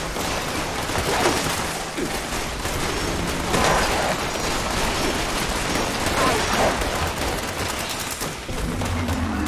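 Dense, continuous gunfire and bursts ring out in Fallout 76 during a Halloween Fasnacht event, with loud overlapping shots filling the whole stretch.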